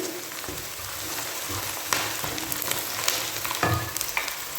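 Chopped tomato and spices sautéing in a pan of oil for aloo keema, a steady close sizzle and frying crackle with occasional stirring scrapes, no voices.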